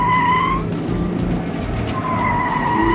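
Cabin engine note of a Toyota GT86 with piped-in sound, a continuous droning hum with whining tones that dip and return, steady and close, with no voices.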